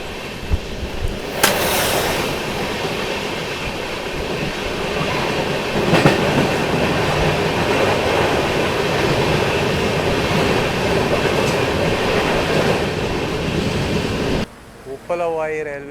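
Nagarsol–Chennai Express passenger train running on rails, a steady loud rumble with rhythmic clickety-clack of wheels over joints throughout, ending abruptly near the end.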